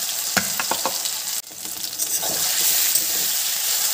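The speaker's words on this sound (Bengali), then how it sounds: "বেশ লাল লাল করে কড়া করে ভাজতে হবে পটলটা" Pointed gourd (potol) frying in hot white oil over a high flame, a loud continuous sizzle with several sharp pops and spatters early on and a brief dip midway.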